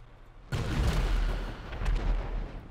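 A vehicle-mounted cannon in GTA 5 fires a single heavy, booming blast that rolls on into a long, loud rumble with a second swell of noise later in the shot.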